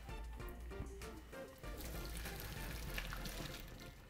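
Running water pours and splashes steadily, like a tap into a sink, as blanched broccoli is drained, with a few clattering knocks near the start.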